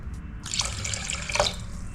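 Water from a kitchen tap runs steadily into a sink while hands are washed under it, a close hissing splash with no talk.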